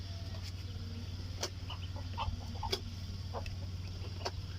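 Backyard chickens, some recovering from a cold, give scattered soft clucks over a steady low hum, fairly faint and with no talk.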